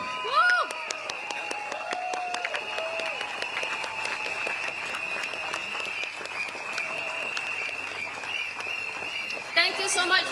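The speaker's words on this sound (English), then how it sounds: "A big round of applause to all our speakers tonight on stage." A stadium crowd at a Singapore political rally claps steadily and loudly while someone speaks briefly over the applause and a whistle-like tone carries through.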